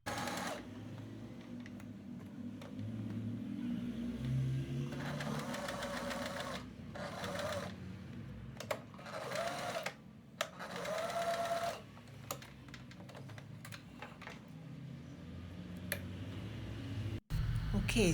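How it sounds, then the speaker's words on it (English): A sewing machine runs in several bursts, some short and some long, while stitching a 1-inch hem on dress facings. Pauses between the runs, close and clear, with a person talking quietly at times. "Now sew a 1-inch hem for both pieces."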